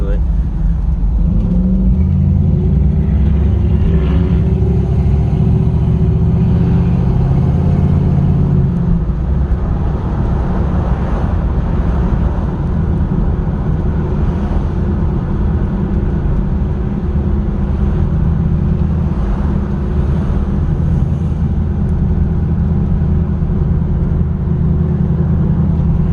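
A lightweight Fox Body-style car with a small-block V8 and Turbo 350 transmission runs steadily, a loud continuous low rumble with people talking over it throughout.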